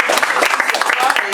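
Audience clapping at a Paris inauguration event, lively and close with distinct individual claps in an uneven rhythm, mixed with voices and cheering from the crowd.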